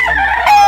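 A Golden Eye gamefowl chicken clucks loudly and close by, one brief, throaty call that swells toward the end.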